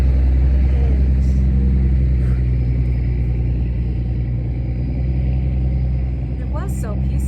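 A heavy truck passes outside, a loud, continuous low rumble that fills the whole stretch and holds steady before easing slightly near the end, with faint brief chirps on top.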